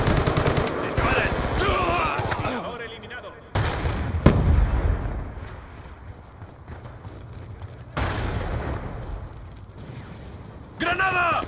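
Gunfire in the Black Ops video game comes as rapid machine-gun bursts, single shots and a heavy blast. The fire comes in loud, close volleys with short lulls between them, while game voices shout over the din.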